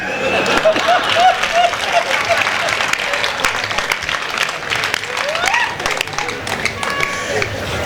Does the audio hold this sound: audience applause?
yes